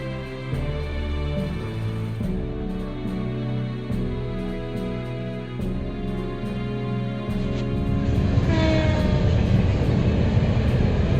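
An Erebonian train from the video game Trails to Azure rumbles steadily under a layered musical score, the low rolling noise growing louder and fuller near the end.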